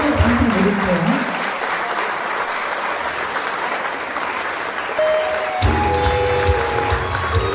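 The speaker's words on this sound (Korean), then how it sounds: "여러분 큰 박수 부탁드립니다" Audience applause at a singing contest for disabled performers in Mokpo, dense clapping for most of the stretch, with brief talk at the start and music cutting in near the end.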